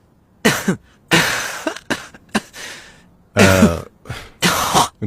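An elderly grandmother coughs and clears her throat close by, in several harsh, separate bursts with short pauses between them and no talking.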